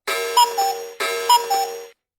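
A 2006 VTech Smartville toy station sounds an electronic alarm clock ring, two identical chiming bursts about a second each, loud and close, with no talking.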